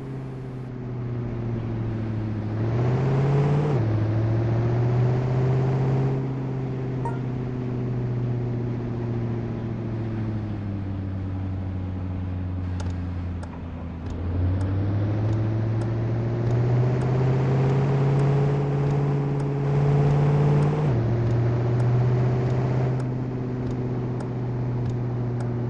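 A truck idles and drives slowly in a convoy in the Truck & Logistics game, its engine note loud and close, rising and falling in pitch through several gear changes, with no talking.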